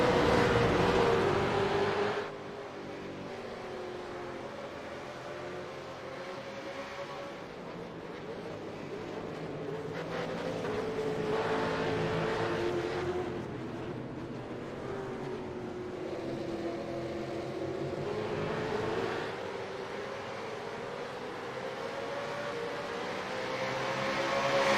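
V8 Supercars race around the Braselton Grand Prix road course at Michelin Raceway Road Atlanta, a pack of four cars droning past from a distance, engine pitch rising and falling as they run in a close line.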